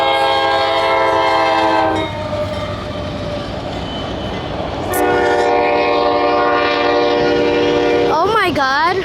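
A CSX freight train rumbles past close by with a loud, sustained multi-tone horn blast at the start, then steady rail and wheel noise, with the horn sounding again near the end.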